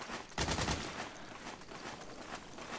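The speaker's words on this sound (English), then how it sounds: "Who are you shooting at?" Gunfire in Metal Gear Solid 4, rapid bursts of automatic shots crackling fairly faintly, with a denser volley near the start followed by scattered continuing pops.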